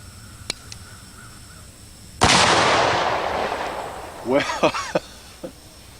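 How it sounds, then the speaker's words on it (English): A single sharp, loud report from a Thompson Center .50 caliber Scout black powder pistol fired outdoors, with a long decaying boom. Faint clicks come before it and a few warbling bird calls follow. "this 50 caliber Scout pistol, a black powder gun from Thompson Center"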